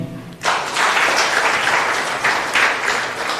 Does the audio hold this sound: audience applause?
yes